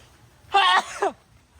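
A single short, sharp sneeze bursts out close by, followed by a brief trailing exhale, with quiet surroundings before and after.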